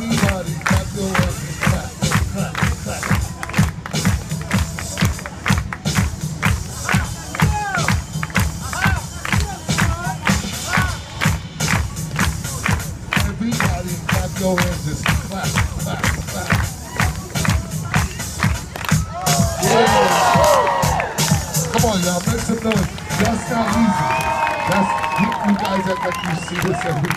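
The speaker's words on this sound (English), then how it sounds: "Everybody clap your hands." A street performance crowd at Faneuil Hall in Boston claps along in a steady rhythmic beat, with a performer's voice over it and crowd noise rising into a burst of cheering toward the end.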